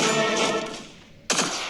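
Automatic gunfire in a monster-truck combat video game, a dense loud burst lasting about a second that fades out, followed after a short gap by another sharp blast.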